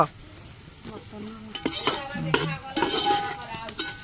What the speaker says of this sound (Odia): ତେଲ ଆଉ ପିଆଜ ପଡି ସାରିଲେଣି ନା?